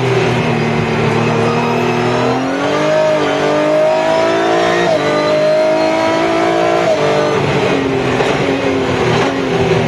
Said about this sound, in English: I hope you can hear how punchy the gear shifts are on this.